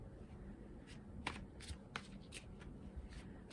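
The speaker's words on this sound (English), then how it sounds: "I just want to shuffle it." Soft, close shuffling of cards: a quiet papery rustle with several brief sharp flicks and taps scattered through, no talking.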